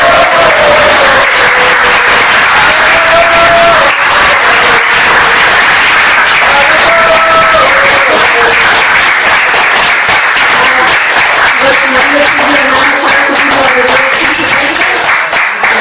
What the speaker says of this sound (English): we can have a big round of applause and a Haribol